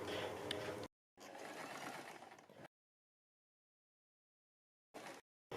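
A sewing machine stitches along a garment's neckline edge in short runs with sudden stops and silent gaps, the needle's rapid mechanical chatter close and distinct.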